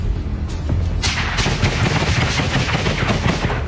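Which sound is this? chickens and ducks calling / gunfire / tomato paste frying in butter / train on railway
gunfire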